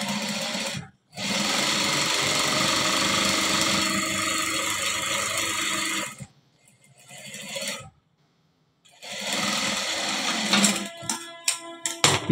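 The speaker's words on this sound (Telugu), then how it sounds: "ఇప్పుడు స్టిచ్చింగ్ చేద్దామండి" Sewing machine stitching a folded shirt collar onto the neck band, running in long steady bursts with two short pauses, loud and close, with clicks and handling noises near the end.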